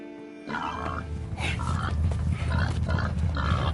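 Pig grunting in the Red Dead Redemption 2 video game, a series of rough, close grunts and squeals repeating in uneven bursts over low rumbling background sound.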